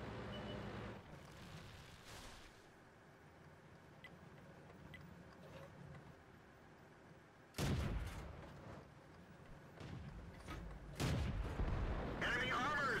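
In a tank video game, T67 cannon shots boom with a sudden, loud blast and a rumbling tail. The booms come as several bursts late in the clip over a low engine drone.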